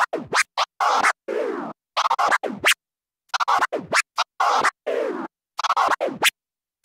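DJ turntable scratching on vinyl, a quick combo of chopped transforms and flares: rapid bursts of swishing record sound cut by sharp silences, loud and close.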